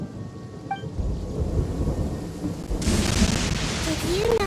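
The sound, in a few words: thunder from the video game Genshin Impact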